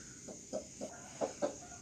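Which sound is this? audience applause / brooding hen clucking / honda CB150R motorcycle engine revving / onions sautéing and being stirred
brooding hen clucking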